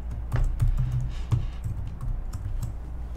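Login credentials are typed on a computer keyboard, a close, brisk series of about a dozen light key clicks in an uneven rhythm, heard alone without talking.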